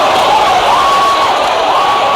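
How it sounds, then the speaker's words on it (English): Boxing arena crowd at Larry Holmes vs Tim Witherspoon heavyweight fight, Dunes Hotel & Casino, Las Vegas, 1983: a steady, dense roar of spectators cheering throughout, with whistles rising above it. "Listen to this crowd."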